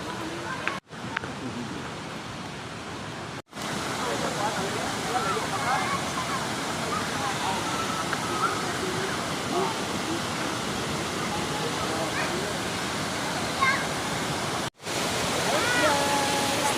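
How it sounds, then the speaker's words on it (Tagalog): Pinoyan Falls roars in a steady, dense rush of falling water close by, broken only by a few brief cuts in the sound. "Dito na naman tayo balik sa waterfalls."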